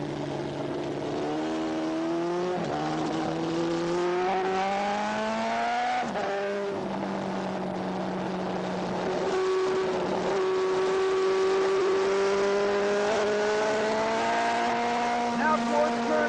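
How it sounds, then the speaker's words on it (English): A 1979 AMA superbike races flat out on a track, its engine note climbing through the gears up a hill, with gear shifts and a brief drop under hard braking; loud, continuous and close, heard from onboard. "Now I'm accelerating hard up the back hill."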